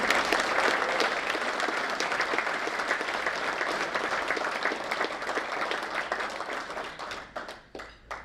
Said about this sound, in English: let's give a round of applause and welcome Supervisor James Gore